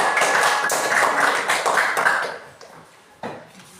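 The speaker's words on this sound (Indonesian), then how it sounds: "Oke, tepuk tangan." A class of students clapping together after a group presentation, a burst of brisk clapping that fades out, followed by a short sharp tap near the end.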